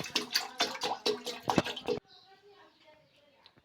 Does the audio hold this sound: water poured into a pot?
yes